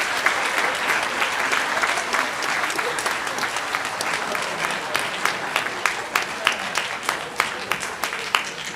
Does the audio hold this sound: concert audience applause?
yes